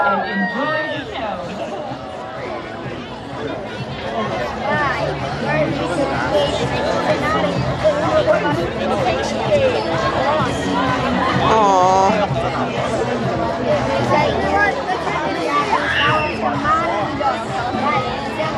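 Crowd chatter at a Hollywood Studios 35th anniversary celebration show at Walt Disney World, a steady dense babble of many voices filling the space, with brief louder exclamations rising now and then.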